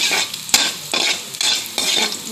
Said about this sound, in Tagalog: Hintayin po nating mag-brown ang garlic.